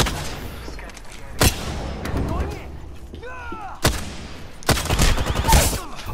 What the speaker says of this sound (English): he shot me through the boxes?